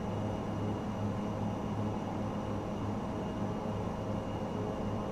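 ATR turboprop engine in MSFS 2024, Asobo version, a steady droning hum with a low tonal whine and constant broadband rush, unchanging throughout and heard without voices.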